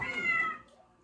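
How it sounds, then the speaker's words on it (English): A single kitten meow, fairly close and clear, rising then fading out within about a second with no talking. "There's a kitten."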